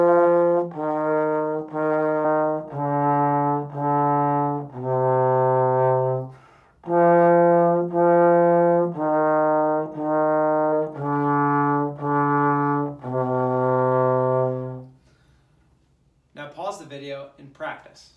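A trombone plays the opening measures of Twinkle, Twinkle, Little Star, two phrases of clear, evenly spaced sustained notes with brief gaps, followed by a moment of quiet and a short voice at the end.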